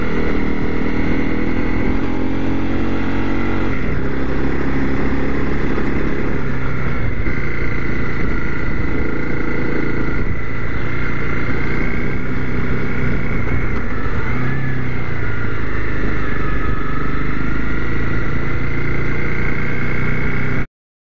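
A Honda CRF250L Rally motorcycle engine drones loudly and steadily while riding through the Lake District in Cumbria, with a constant close engine roar and wind rumble and no speech.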